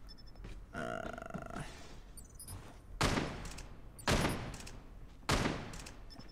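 Gunfire in Call of Duty Mobile during a ranked Face Off capture-the-flag match: three loud, separate bursts of shots about a second apart, each a sharp blast with a short decaying tail over a low game background.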